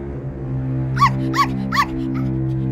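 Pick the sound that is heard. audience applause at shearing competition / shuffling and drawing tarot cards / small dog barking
small dog barking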